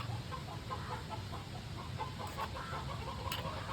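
A chicken clucks faintly in the background of a noisy outdoor home setting, with a few soft, scattered calls and no clear talk.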